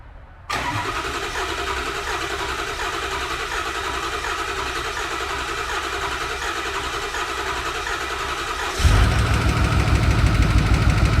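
A 2008 Ford F450 with a 6.4L diesel engine, fresh from a head gasket job, cranks and catches, then runs at a steady rough idle close by before revving louder near the end.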